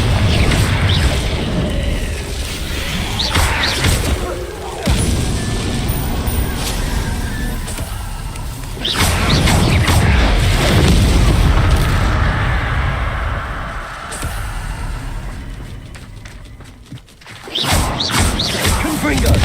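Confringo fire spell blasts in the game Hogwarts Legacy, loud booming explosions with crackling, crashing debris, repeated several times among sustained rumbling combat noise, with shouted voices over them.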